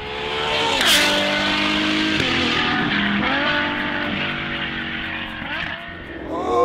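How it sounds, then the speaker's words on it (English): A Ferrari GTC4 Lusso V12 roars loudly up close, its revs climbing and dropping in several surges with harmonic sweeps at each gear change, and no talk over it. "none of these can match the rage and the roar of the Ferrari V12."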